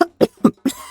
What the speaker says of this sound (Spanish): Empezamos a toser.